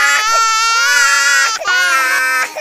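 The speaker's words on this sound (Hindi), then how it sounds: "इससे ज्यादा एनोइंग होता है एक बच्चे के रोने का साउंड।" A baby cries loudly and close in a continuous strained wail, with two brief catches in breath before the crying resumes.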